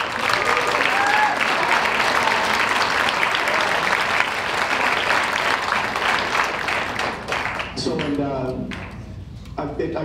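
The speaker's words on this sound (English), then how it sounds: "So give yourselves a round of applause." Sustained audience applause at a high school evening of jazz, dense clapping from a large crowd at full loudness that thins toward the end as a voice starts speaking over it.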